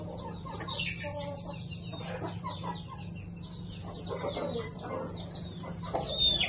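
Chickens in a small backyard poultry setup clucking repeatedly, several birds close by with overlapping calls over a steady low hum, one louder squawk near the end.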